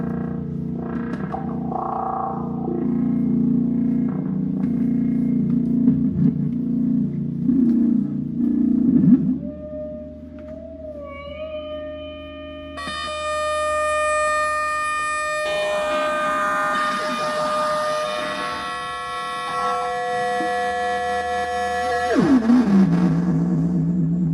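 Synthesizer tones warble and slide, starting as a buzzy low drone, then layered sustained pitches stacking into a bright chord that bends down at the end.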